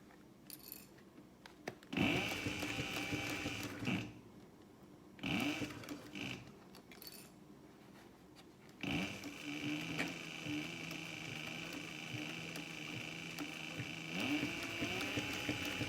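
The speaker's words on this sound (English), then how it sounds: "But backstitch a few steps and then go forward." A sewing machine backstitches a few stitches then runs forward while sewing a cosmetic bag, giving short bursts of mechanical whirring separated by pauses, then a longer steady run close by.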